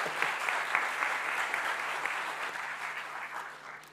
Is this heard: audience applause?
yes